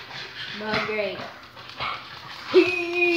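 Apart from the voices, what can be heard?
dog barking and whimpering in Minecraft, a video game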